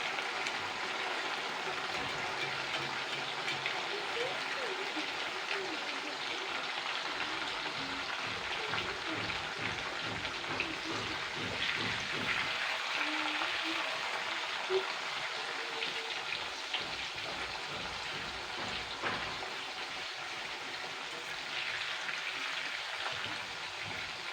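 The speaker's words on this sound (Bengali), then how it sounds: "খুন্তিটা একটু কিন্তু একটু নাড়াচাড়া নাড়াচাড়া করে নিতে হবে" Raw potato chips frying in hot oil while a spatula stirs them, a constant soft bubbling hiss with intermittent scraping and clinking, fairly faint, with a voice speaking at times over it.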